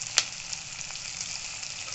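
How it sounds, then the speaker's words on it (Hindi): Onions sizzle steadily in hot oil over a high flame, a soft continuous crackle with one sharp tick near the start. "प्याज भून चुके हैं।"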